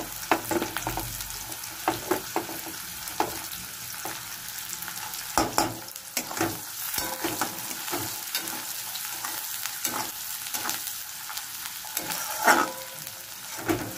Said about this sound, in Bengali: এবার কুচনো পেঁয়াজটা দিয়ে একটু ভাজবো